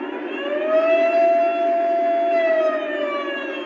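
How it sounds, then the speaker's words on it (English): A Lionel US Army Veranda Turbine toy train sounds its air horn in one long, loud, steady chord that holds unbroken from start to finish. "What train has an air horn on it?"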